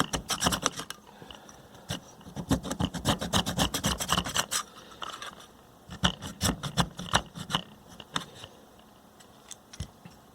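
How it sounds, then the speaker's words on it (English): Material is scraped off a Realistic MC-800 speaker during repair, close rapid rasping strokes in irregular bursts with brief pauses between them. "Try and scrape away the remainder."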